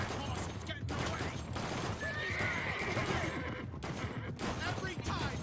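A horse whinnies and neighs amid clopping hooves and busy movement, loud and close, with a couple of sharp bangs mixed into the commotion.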